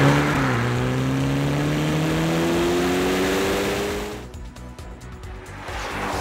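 Ferrari Lusso T V12 exhaust rising in pitch under acceleration for about four seconds, loud and close, then easing off as the engine note drops and the surroundings grow quieter.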